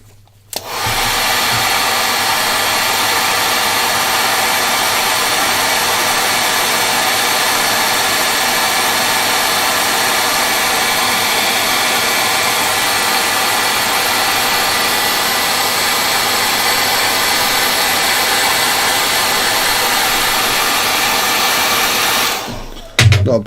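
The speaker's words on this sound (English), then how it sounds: "One more hairdryer." A hair dryer blows steadily over freshly painted miniatures, a loud, even, continuous roar that switches on abruptly, holds unchanged for over twenty seconds, then cuts off.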